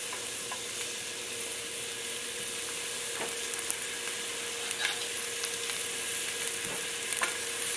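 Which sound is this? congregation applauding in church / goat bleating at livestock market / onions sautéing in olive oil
onions sautéing in olive oil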